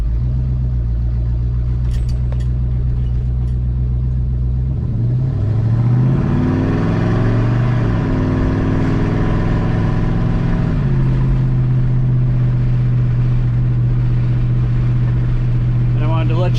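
A 1979 Dodge Lil Red Express muscle truck rumbles on a short cruise, its engine droning low and then revving up through gears before settling to a steady loud cruise, with some talk over it.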